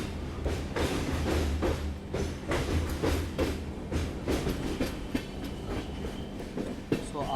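Rolling train noise from inside a Vistadome coach on the Bengaluru to Mangaluru line through the monsoon ghat section, with steady rumble and repeated clickety-clack wheel beats at close range, no speech.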